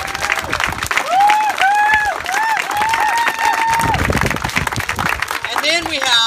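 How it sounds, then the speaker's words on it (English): Crowd at a Big Toy dedication event applauding, with clapping and some cheering heard under voices and talk throughout. "Big round of applause for Mark."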